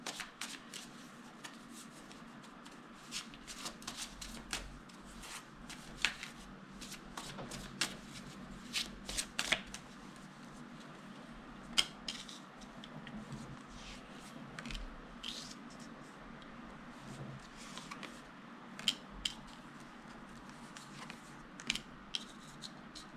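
Tarot cards are shuffled by hand in a quiet room, with a steady run of soft papery riffles, slaps and flicks that continues throughout and has no talking over it.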